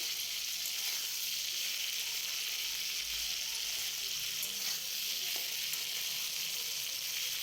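Sliced papaya fries in a pan with turmeric and salt while being stirred. A steady, close sizzle continues throughout with a few faint scraping stirs and no talking.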